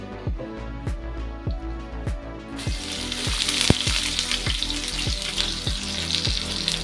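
Onions fry in hot oil for a stuffed ridge gourd curry. A busy, steady sizzle grows louder partway through, with regular ticking pops and scrapes close by, and no one speaks.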